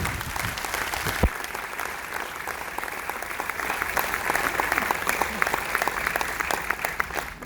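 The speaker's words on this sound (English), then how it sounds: "So I would like to give a big round of applause to everybody coming from the plane." Dense crowd applause fills a cruise ship gathering, steady and close throughout, with a few louder claps and faint voices mixed into the wash of clapping.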